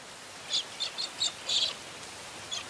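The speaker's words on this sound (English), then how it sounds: "And cockatiels celebrate with a rain dance." Cockatiels calling in an Australian rainstorm, a series of bright chirps in short bursts, roughly five or six spaced calls over a soft steady hiss of rain.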